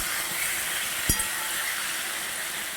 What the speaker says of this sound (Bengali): সবজিটা একটু ভালো করে মাছের দিয়ে ভেজে নিচ্ছি